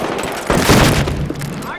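Gunfire in Battlefield Hardline during an ESL competitive match: a burst of loud, close shots and booms sounds in the middle, while a player talks over it.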